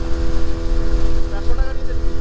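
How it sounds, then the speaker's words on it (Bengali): A loud, steady engine drone from a four-seater motorboat cruising on a reservoir, with wind buffeting the microphone throughout. "এটা হচ্ছে 4 সিটার বোট, আমরা 3 জন ছিলাম।"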